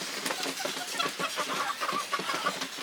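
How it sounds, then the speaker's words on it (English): A Frizzle Bantam Cochin hen clucks softly outdoors in snow, giving a steady string of low, close clucks and murmurs with light background noise. "This is my Frizzle Bantam Cochin."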